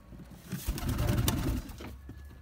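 Pigeons cooing in a mixed pigeon coop, a short close burst of throaty, rolling coos with a faint rustle, no talking.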